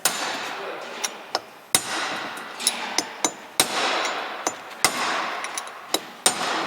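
A bearing is hammered into its mount with a series of about a dozen sharp, ringing metallic strikes at irregular intervals, close and loud, with no talking.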